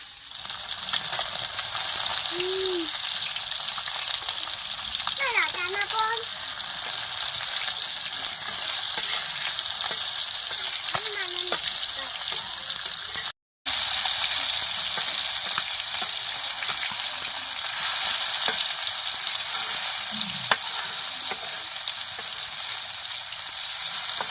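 Pieces of tilapia fish fry on a flat tawa, a loud, steady oil sizzle that crackles continuously with a few faint clinks and a brief dropout partway through, close up with no talk.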